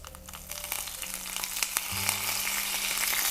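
Curry leaves, seeds and a dried red chili sizzle in hot tempering oil, a close, steady frying hiss scattered with sharp pops and crackles, with no voices.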